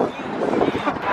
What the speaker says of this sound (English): It's just too windy at the moment.